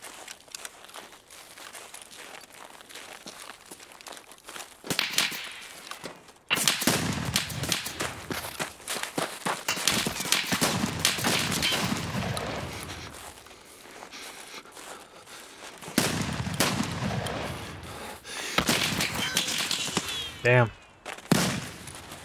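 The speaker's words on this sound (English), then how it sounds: "Heard a ton of shooting over here." Bursts of gunfire in Escape from Tarkov, loud cracks and rapid volleys arriving in clusters with quieter gaps between, some of the shooting echoing from a distance, mixed with movement and rustling.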